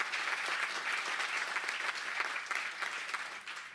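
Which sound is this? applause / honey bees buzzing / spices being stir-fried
applause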